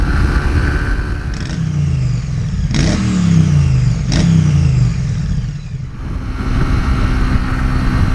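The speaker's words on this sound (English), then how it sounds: "Today, I'm on a 2018 Suzuki GSX-R 125." A 2018 Suzuki GSX-R 125 small sports motorcycle revs hard close by, its engine climbing through several sharp rises and drops before settling to a steady drone.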